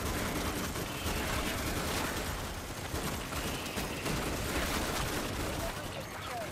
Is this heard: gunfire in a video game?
yes